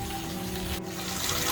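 Red mineral water pours steadily from the Shubuta artesian well in Shubuta, Mississippi, a continuous close splashing flow with a brief dip midway.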